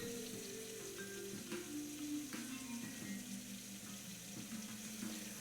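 Running tap water splashes steadily into a measuring cup being rinsed at a kitchen sink, a soft continuous gurgling stream with faint clinks.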